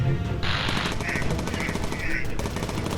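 A bomber's turret machine gun fires upward in the video game Bomber Crew, rattling in rapid continuous bursts with brief gaps, loud and close.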